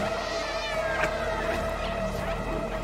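A cat meowing in the video game Stray, a drawn-out wailing meow over a constant electronic hum and steady background tone.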